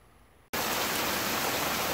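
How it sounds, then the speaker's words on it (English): Heavy Texas rain starts abruptly after a quiet moment, then pours steadily as a loud, dense hiss on surfaces nearby, including a rainwater collection system. "a nice Texas rain going on."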